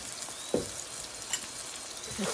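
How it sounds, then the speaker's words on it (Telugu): Brinjal fries in a pan with a little salt and turmeric for an instant eggplant pickle. A steady, close hiss of oil sizzles throughout, with a couple of louder pops or stirring scrapes. "కొంచెం బ్రౌన్ అయ్యేంత వరకు వేయించుకోవాలా"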